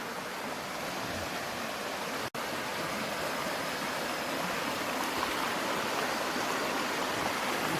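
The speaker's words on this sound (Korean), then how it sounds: "이런 식으로 계곡이 흐르고 있습니다" A mountain valley stream near a farmhouse in Namyang-ri, Okgye-myeon, Gangneung, flowing with a steady, close rushing wash of water that stays constant throughout, broken only by one very brief dropout.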